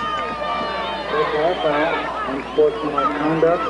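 A crowd boos from the stands at a 1994 high school football game after a player spikes the ball following a touchdown, a steady loud jeer with some rising swells, heard together with other crowd noise.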